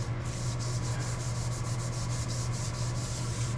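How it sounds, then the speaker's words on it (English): A Scotch-Brite pad rubbed lightly over metal on a machine tool being restored, a steady close scratchy scrubbing with a quick regular back-and-forth rhythm throughout. "The Scotch-Brite works pretty good, but just use it lightly"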